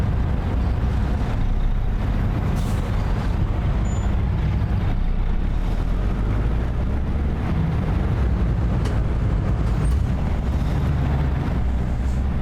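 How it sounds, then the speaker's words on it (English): Steady, dense road traffic roar in American Truck Simulator, loud low rumble of engines and tires running continuously without pause, with faint hiss and occasional brief higher chirps layered on top. "The traffic noise is sure loud."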